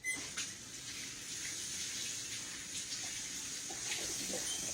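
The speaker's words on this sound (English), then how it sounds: "now let me wash my hands off over here" Hands washed under a running kitchen tap, a steady close stream of water splashing and hissing throughout with no talking.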